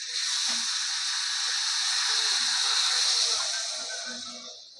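Water hits a hot pan of spiced pointed gourd and potato with a loud, steady hiss and sizzle that fades toward the end, while a faint voice murmurs underneath.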